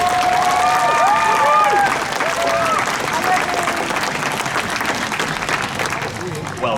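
An audience at a sea lion show in a safari park claps and cheers for several seconds, a steady crowd roar with whistles rising early on and a voice calling over it.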